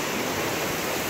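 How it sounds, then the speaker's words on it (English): Hot spring water pouring down a mountain creek in the Warm Creek area, a dense, continuous rushing wash heard up close and without voices. "That's all hot water just pouring out the mountain"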